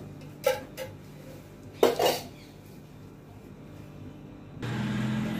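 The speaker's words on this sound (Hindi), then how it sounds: "कलछुल गर्म हो गया है, अभी डालेंगे देसी घी।" Desi ghee goes into a hot frying ladle over a gas flame: a few sharp metal clinks of spoon and ladle come first, then a steady, close sizzle rises and holds to the end.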